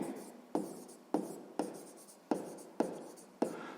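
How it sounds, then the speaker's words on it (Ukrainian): Handwriting on paper while working a sixth-grade math problem: seven distinct pen strokes arrive at a steady rhythm, each a sharp scratchy onset tapering off, close and clear with no talking. "Записуємо тоді перша дія."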